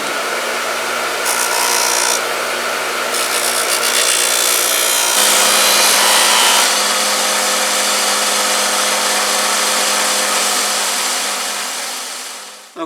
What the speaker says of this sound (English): I'll take it over to a grinder to do that